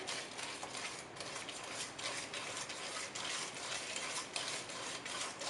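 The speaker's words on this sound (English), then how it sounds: "I'm just going to make sure all the dough is stirred up" A whisk stirs thick dough in a bowl, a continuous faint scraping churn with a steady rhythm and no talking.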